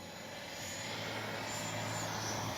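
An FMS 80mm F-86 RC model jet flies by with a steady, broadband ducted-fan whoosh, fairly loud and swelling slightly over the few seconds, with no voices.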